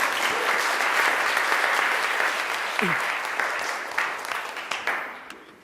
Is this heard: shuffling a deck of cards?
no